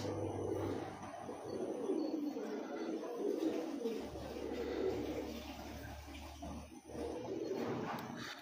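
Pigeons coo on a rooftop loft in Punjab, a steady low murmur running through the whole stretch, fairly close, with faint background noise and no clear talk.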